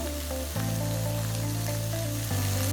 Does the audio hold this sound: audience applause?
no